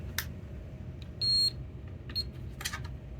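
A test meter gives a few short electronic beeps during a continuity check on a QSC DCA amplifier, with one sustained tone of about a quarter second in the middle and brief chirps around it over a low hum.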